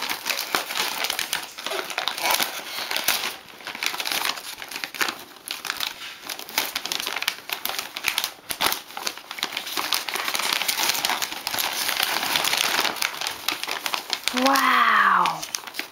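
Wrapping paper being ripped off a present, a continuous loud crinkling and tearing that runs throughout, with a voice rising near the end.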